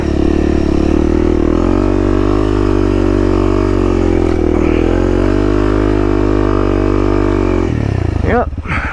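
A Honda CRF300L dual-sport motorcycle climbs an off-road hill, its single-cylinder engine droning loud and steady close up, briefly surging in pitch, then cutting off near the end under a short burst of wind noise.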